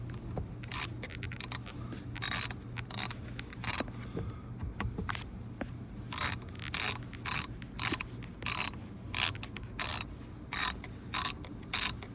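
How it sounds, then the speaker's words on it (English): A hand ratchet is turned on the steering wheel bolts of a Hyundai Accent during airbag and wheel removal, giving close, crisp rapid clicking in repeated short bursts with brief pauses between strokes. "So just take my ratchet."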